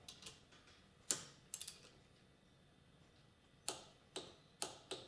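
A torque wrench clicks on the cam cap bolts of a Kawasaki KZ650 engine, first in a pair and then in a short series of double clicks. The sharp ticks are close and quiet in an otherwise calm room.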